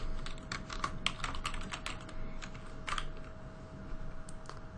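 Keys clatter on a computer keyboard as code is typed, a close, fairly quiet run of irregular clicks over a low background hum, with no voices.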